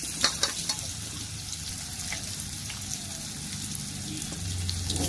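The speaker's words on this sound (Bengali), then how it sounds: "ভেজে নেব এগুলিকে ভালো করে" Slices of green banana sizzle and crackle steadily in hot oil in a pan, with close, continuous frying noise and faint clinks, and no talking.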